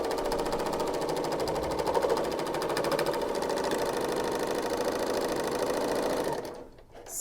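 A sewing machine, likely a serger, stitches a cardigan, running steadily and fast at close range for about six seconds before stopping abruptly with a brief clatter at the end.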